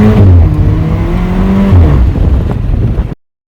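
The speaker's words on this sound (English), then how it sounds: "I'm going out in the Alfa 4C" A black 2016 Alfa Romeo 4C with a 1.7 liter turbo engine accelerating hard, its loud close engine note rising through the revs with a brief gear change midway before cutting off abruptly.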